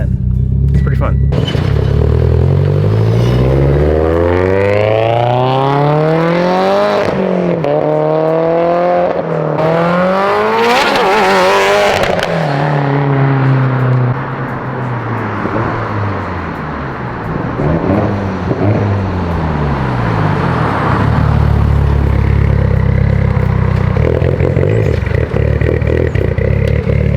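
A loud, caged, widebody Mitsubishi Evo 10 of about 550 wheel horsepower drives with engine revs climbing and shifting through gears, the droning rumble steady throughout while people talk inside the cabin.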